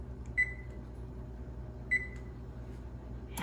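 Two short electronic beeps from an oven timer being set, spaced about a second and a half apart over a quiet background hum, followed by a brief clatter at the end.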